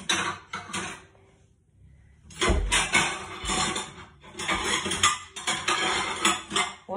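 Plates and dishes clatter and clink as they are handled and stacked in a kitchen, loud and close, in two bursts separated by a brief quiet pause.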